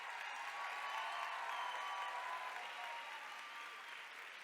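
Audience at a cosplay contest applauding the prop makers, a soft, distant, even wash of clapping that holds steady and fades slightly toward the end.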